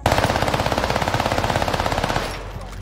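An Armaguerra SMG fires in Call of Duty Warzone, a loud, close, rapid burst of evenly spaced shots for about two seconds, then stops and leaves a faint tail.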